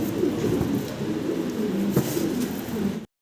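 Soft, low cooing of fancy pigeons repeats steadily over a busy background murmur, then cuts off abruptly near the end.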